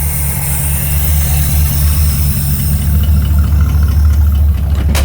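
The engine of a 1972 Dodge Crew Cab pickup truck idles with a steady, deep rumble, loud and close, holding an even tone throughout.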